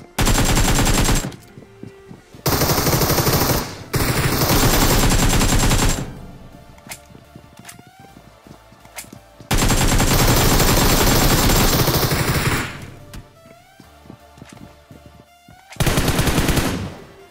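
Automatic gunfire from PUBG Mobile, loud sustained bursts of rapid shots that alternate with short gaps of quieter game sounds and scattered single reports.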